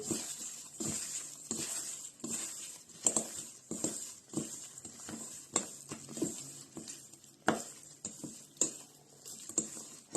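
Nugget mixture with dried garlic being stirred in a bowl, giving soft scraping and irregular clinks of a utensil against the dish, repeated at close range with no talk.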